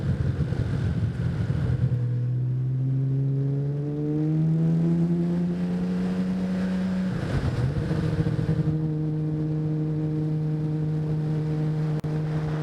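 A Honda CBX 1000 six-cylinder motorcycle riding along a road, its engine droning steadily with pitch rising through gear changes, a brief dip around a shift, accompanied by constant wind rush, no talking.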